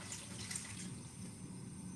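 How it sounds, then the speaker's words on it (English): Warm tap water running into a container, a steady, close rush of flowing water that continues without a break. "I'm just gonna fill this up with some warmer water for you"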